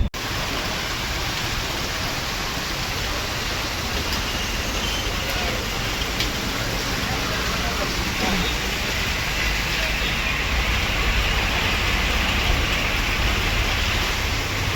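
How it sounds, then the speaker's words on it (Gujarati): Heavy rain falling in Sarkhej, a dense, loud, steady hiss that fills the whole stretch with no breaks, with faint traffic-like rumble underneath and no voices. "જોરદાર વરસાદ ચાલુ છે ભાઈ સરખેજની અંદર।"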